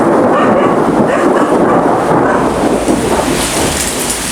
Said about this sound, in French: il y a eu un éclair vraiment proche